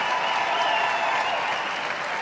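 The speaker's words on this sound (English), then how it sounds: "this crowd, it sounds like overtime at the Garden" Steady, loud applause from a large arena crowd at the Westminster Dog Show Best in Show ceremony fills the moment, a dense roar of clapping and cheering with no break.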